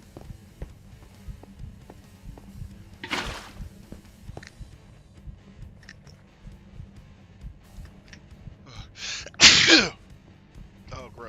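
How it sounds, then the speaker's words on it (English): A single loud, explosive sneeze bursts out near the end of an otherwise quiet indoor stretch, preceded earlier by a softer, breathy sharp intake. "that was one of those sneezes where I'm like looking around to see if mucus splattered all over everything."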